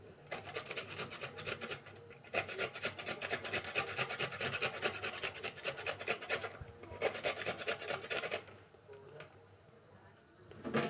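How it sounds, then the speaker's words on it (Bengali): A potato is grated on a hand grater in fast, steady, rhythmic scraping strokes that run on for several seconds with a few brief pauses, close and fairly quiet. "দুটো আলু নিয়ে নিয়েছি, আলুটা ঘষে নেব।"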